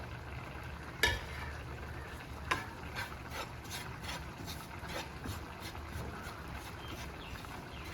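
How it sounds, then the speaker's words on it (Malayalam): Dried chillies and coriander seeds dry-roasting in a pan for Kerala-style beef curry, with faint steady rustling and soft scraping, punctuated by a few light knocks from stirring, no voices. "അതിലേക്ക് നമുക്ക് ഈ മുളകും മല്ലിയൊക്കെ ഒന്ന് ഇട്ട് കൊടുക്കാം"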